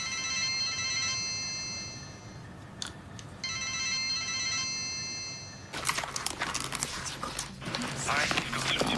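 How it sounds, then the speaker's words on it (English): An unanswered telephone rings in two long electronic bursts with a pause between, then stops abruptly and gives way to rustling, shuffling noise. "Come on, answer the phone."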